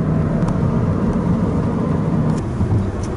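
Car driving on a road in Saudi Arabia, heard from inside as a constant low engine and road rumble with a steady cabin drone and faint ticks, loud and unbroken.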